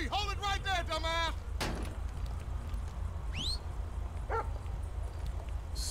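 A K9 police dog in Grand Theft Auto V barks a quick burst of several close yelps, followed by sparse squeals and game noise under a steady low rumble.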